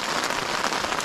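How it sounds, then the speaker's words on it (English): Rain patters steadily and densely on the fabric of an Oztrail Flinders/Tasman three-person tent, a close, continuous hiss of drops with no voices. "the rain's getting a little bit more serious now"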